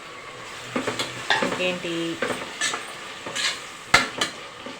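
Tomatoes and masala fry in a pan for egg biryani, hissing as a spoon stirs and scrapes with repeated clinks against the metal; a voice briefly speaks early on.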